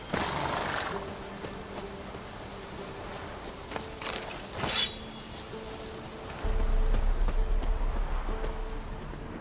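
Horse hooves clip-clop at a riding pace in The Witcher 3, with a short whinny-like burst and clinking tack partway through, then a heavier low rumble of galloping toward the end.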